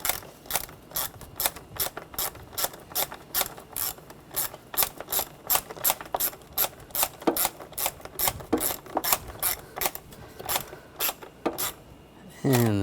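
A ratchet clicks in quick, regular bursts while tightening nuts on the intake manifold of a 2009-2013 BMW 328i xDrive with a 3.0L inline-six, the strokes repeating steadily and up close.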